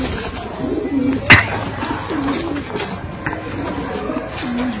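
Kaldama desi pigeons coo close by in a repeated run of soft, throaty calls, with a brief sharper noise partway through.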